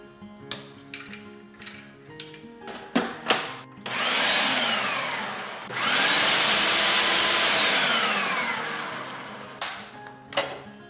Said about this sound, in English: it's better to use food processor